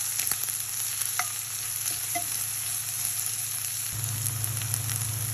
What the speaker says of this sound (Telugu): పోపు వేగిన తర్వాత మనం కట్ చేసి పెట్టుకున్న ఆనియన్స్ వేసి కలబెట్టుకోవాలి.